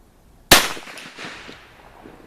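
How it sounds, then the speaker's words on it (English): A single sharp rifle shot from a Savage 340 chambered in 30-30 Winchester firing a Lyman 311041 cast bullet, a loud crack followed by a rolling echo that fades over about two seconds outdoors. "That was our last shot."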